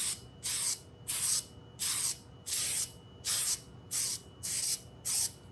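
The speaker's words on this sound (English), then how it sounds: "So basically you just spray it like," A spray can applies a coating onto metal before laser marking with a laser cutter, in eight short, even hissing bursts separated by brief pauses, close and steady.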